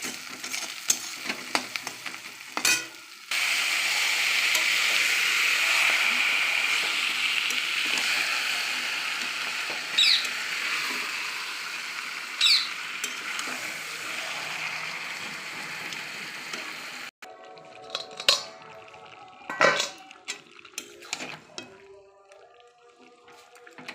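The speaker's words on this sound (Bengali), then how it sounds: "এবার আমি মাংসটা ঢেলে দেবো।" Duck meat hits a pan of fried onions and sizzles in a loud, steady hiss, with a few spoon clatters. The frying then quiets to softer bubbling with scattered scraping and clinks.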